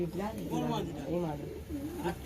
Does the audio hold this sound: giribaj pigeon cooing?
yes